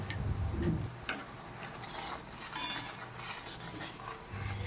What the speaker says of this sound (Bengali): ভেজে রাখা শুকনো লঙ্কা আর জিরে বেটে নেব।